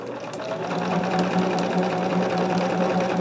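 A sewing machine runs steadily, stitching quilt block units together in cotton fabric for a tree-of-life quilt, a continuous close hum with a fast even needle rhythm and no talk.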